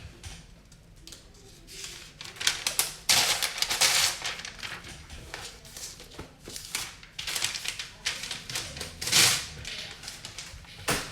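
Paperwork is pulled out and handled up close, producing a busy stretch of crinkling, rustling and tapping bursts that rise and fall irregularly over about eleven seconds, with no speech.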